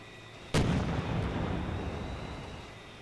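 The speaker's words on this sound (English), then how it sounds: "We're taking fire here." Steel Beasts Pro tank combat: a single sharp, loud artillery shot cracks out, then its heavy rumbling echo rolls on and slowly fades.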